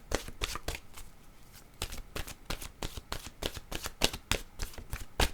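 Oracle cards are shuffled by hand, close and fairly quiet, in a quick irregular run of crisp riffling slaps that pause briefly and then pick up again. Nobody speaks.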